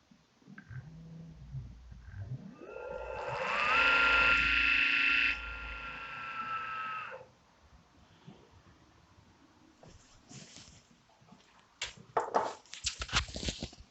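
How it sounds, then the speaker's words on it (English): Electric motor on an EV restomod quad bike fitted with a Kelly controller, spinning up with a rising whine that peaks loud and steady mid-clip, then cuts off, followed by scattered clicks and clatter. "Let's first spin up of the motor."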